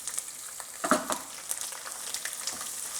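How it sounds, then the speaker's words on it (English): Curry leaves, dry chilli and chopped onion frying in oil for lemon rice, crackling sizzle with sharp pops and a few stirring clatters, close and steady. "Now add the curry leaves and dry chilli and the chopped onion"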